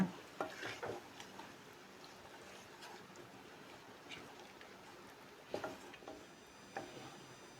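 Egg biryani mixture being stirred in a pressure cooker pot, soft scraping and shuffling strokes with a few sharper clinks, quiet and close over a low continuous background hiss.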